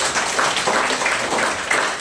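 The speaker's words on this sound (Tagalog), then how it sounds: "Pumalakpak po yung mga anak ng Diyos" A church congregation breaks into brief, dense applause, many hands clapping together in a short burst that fills the room.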